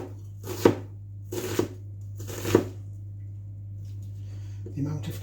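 Three heavy thuds of a meat cleaver chopping through corned beef, evenly spaced about a second apart over a steady kitchen hum, followed by a quieter scraping sound.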